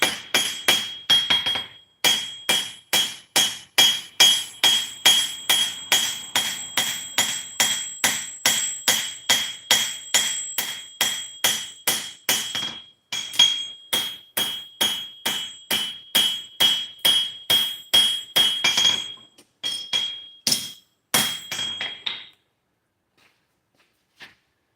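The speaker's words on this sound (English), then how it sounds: "I'm using a flat face on my hammer." A flat-faced hammer forges a handle on an anvil, dozens of loud, ringing metallic strikes in a steady fast rhythm, with a few brief pauses before the last scattered blows and silence.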